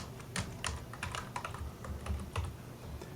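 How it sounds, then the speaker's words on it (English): Keys on a computer keyboard are tapped in a quick, uneven run of soft clicks, close and quiet with no voices. "I could manually type in"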